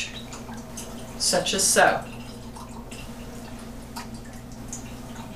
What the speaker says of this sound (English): it's going to allow the water to flow over into the bigger gauge